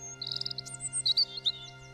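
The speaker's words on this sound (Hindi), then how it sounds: "तभी रंग बिरंगी किरणों से मैना पक्षी प्रकट हुई" A myna bird gives a quick run of bright, high chirps and tweets, spread unevenly across about two seconds over a low steady hum, fairly close and moderately loud, with no talking.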